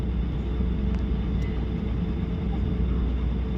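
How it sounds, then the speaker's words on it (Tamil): Airliner landing near Dubai, a deep continuous rumble of engines and airflow heard from inside the cabin, steady and fairly loud throughout. "லேண்டிங் ஆகி போயிட்டுருக்கு ஃப்ளைட்டு."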